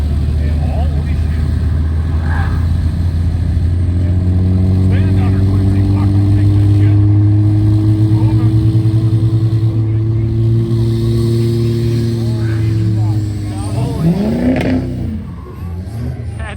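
Two diesel trucks strain to pull a truck buried in a creek at a diesel challenge event, with a loud sustained engine drone rising and holding for several seconds before dropping off, while people talk over it.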